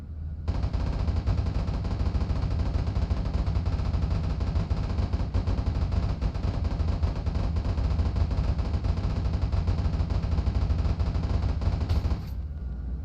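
Aircraft cannon in the Nuclear Option combat flight game fires a sustained, dense stream of rapid rounds at an enemy vehicle depot during a low attack run, loud and continuous for about twelve seconds before stopping abruptly.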